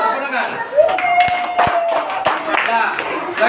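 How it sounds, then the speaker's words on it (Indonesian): A school class claps hands in several sharp, separate bursts over classroom chatter, with a teacher's voice running through the middle. "Oh, tepuk tangan."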